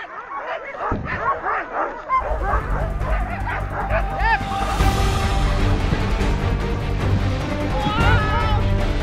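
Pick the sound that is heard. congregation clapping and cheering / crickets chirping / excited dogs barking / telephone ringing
excited dogs barking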